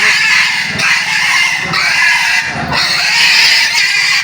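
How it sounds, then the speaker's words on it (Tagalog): Pigs grunting on a farm in Del Carmen, Mactan, a cluster of low grunts recurring in irregular bursts under a steady, loud bed of barnyard fowl and goose-like honking. "Adi naman ang mga baboy oh."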